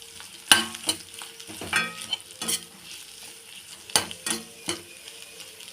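Mashed potatoes for potato podimas are stirred in a pan over a soft sizzle, with intermittent scraping strokes and metallic clinks of a spoon at an uneven rhythm.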